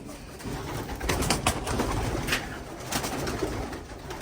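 Racing pigeons cooing inside a one-loft race breeding loft, a steady murmur of soft overlapping coos heard fairly close with airy room noise and no talk.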